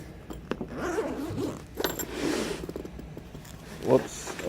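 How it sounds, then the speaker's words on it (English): A standard zipper is pulled open on a ballistic nylon revolver case for a Smith & Wesson 500 Magnum with a 10.5-inch barrel. It gives a close, raspy run of several short zipping strokes, mixed with handling rustles and someone talking. "It's just got a standard zipper here."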